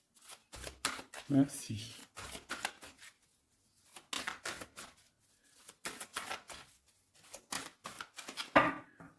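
Tarot cards being shuffled and cut into three piles during a reading, giving repeated crisp riffling bursts with short pauses between them, close and fairly quiet, while someone speaks French.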